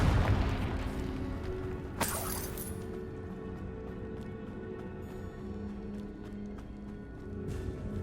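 A Confringo spell blast in the Hogwarts Legacy game: one sharp, bright burst stands out against a low, murky rumble, with a fainter pop near the end, all fairly quiet.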